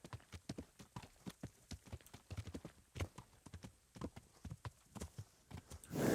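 Horse hooves clip-clop at a steady walking rhythm in Kingdom Come: Deliverance, a close, regular series of dull thuds that runs throughout, ending in a louder rustling burst.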